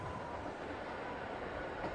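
A train leaving Panshi county station in Jilin carries stretcher-bearer volunteers toward Korea, heard as a steady, continuous rolling rumble with no voices over it.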